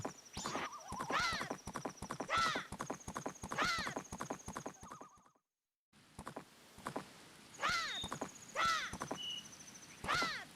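Epona the horse gallops in The Legend of Zelda: Majora's Mask, with a rhythmic clip-clop of hooves and repeated whinnies running continuously, broken by a brief silent gap.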